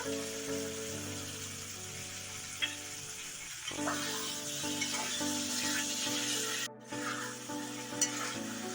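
Poppy seed paste going into a frying pan for Bengali fish curry with eggplant, a soft steady sizzle with faint stirring scrapes and a momentary dip partway through, no talk.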